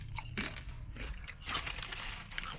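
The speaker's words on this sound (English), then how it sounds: "these chips got a like nice little crunch to them" Tortilla chips being bitten and chewed with spicy salsa, giving close, dry crunches in an irregular rhythm, quiet and low in level.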